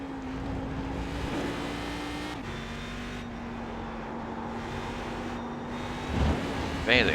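Steady engine drone of a Cadillac CTS-V race car in iRacing at Spa-Francorchamps, holding a sustained pitch with brief gear-change dips and a slight rise near the end, continuous and fairly even.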